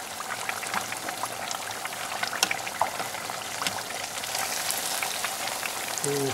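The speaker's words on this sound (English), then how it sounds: "You can see I don't use a basket with this fried addy. By the way, it's a 4-cup fried addy." Fish fillets deep fry in oil in a small 4-cup FryDaddy fryer, giving a dense, continuous crackling sizzle with scattered sharper pops, steady and close throughout.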